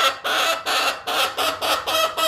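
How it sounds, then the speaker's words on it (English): An onagadori hen perched on a shoulder gives seven loud, close, insistent clucking squawks in a quick regular rhythm while begging for pine nuts. "This is our onagadori hen right here on my shoulder, who's yelling at me to give her more pine nuts."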